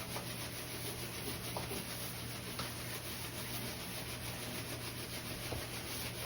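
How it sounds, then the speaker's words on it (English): Hand scraping on a surface of a 100-year-old wooden house makes a continuous rough rubbing and rasping, close and moderately quiet, with faint periodic strokes and no speech. "I'm going to do a little bit of scraping here on some of this."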